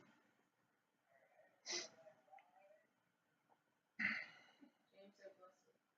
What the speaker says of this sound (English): I go live and I sneeze.